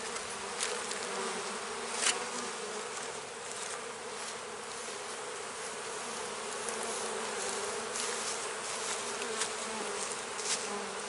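Steady, dense hum of honeybees clustered on about eight or nine hive frames in a late-season split colony, a continuous buzzing swarm close by with small surges and no voices.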